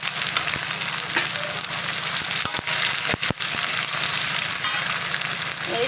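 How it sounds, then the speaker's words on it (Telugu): Chopped onions frying in oil with cumin, mustard seeds and dried red chilies for a chana dal and raw mango curry, a dense continuous sizzle, near and even, broken by a few brief ladle knocks around three seconds. "ఉల్లిపాయ వేగదాకా వేయించుకోవాలి"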